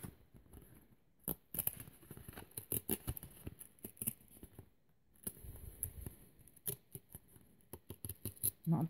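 Scratchcards being torn up, a run of dry papery rips and crinkles coming in irregular bursts, close and fairly quiet, with no voices.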